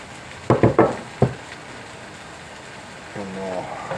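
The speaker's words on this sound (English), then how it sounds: "The diced potato goes in." Diced potato hits a hot pan for Malaysian curry puff filling: a quick cluster of clattering bursts, then a single clack, followed by a quiet stretch and a brief voice near the end.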